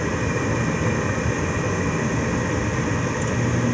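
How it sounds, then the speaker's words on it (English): A Rheem Criterion gas furnace runs with its main blower going, a loud, steady broadband whoosh of moving air with a constant low rumble and no voices. "There goes the main blower."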